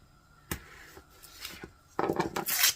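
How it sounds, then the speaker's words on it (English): A knife cuts into butter on a board in a home kitchen while making salsa spaghetti, soft scraping and tapping with a sharp knock and rougher rubbing at the end, close, with no talking. "And then I'm going to cut some butter to go in there."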